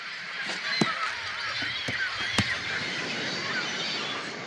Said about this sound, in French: Pélicans, fous, cormorans.